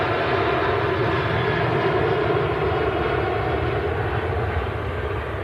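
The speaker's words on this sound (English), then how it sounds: "Jet2.com and Jet2 holidays flight to Munich." A Jet2 airliner on a flight to Munich roars past in a loud, steady, broadband engine rumble that fills the whole stretch without fading, with no voices over it.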